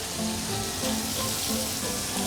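Fresh spinach blanching in a pot of boiling water, a steady bubbling hiss with soft crackle running evenly throughout, no voices.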